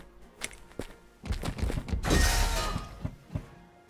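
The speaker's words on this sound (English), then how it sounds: "Great shot cannon." A cannon firing in the video game Ironclad Tactics: scattered clicks and thumps, then a heavy booming blast with a crackling shattering burst of debris, followed by a few lighter thuds, moderately quiet overall.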